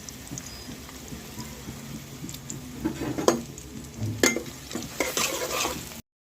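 A bowl of onions, cardamom, cinnamon and bay leaves goes into hot oil, sizzling steadily with stirring scrapes and sharp metallic clinks of a utensil against the pan growing louder toward the end.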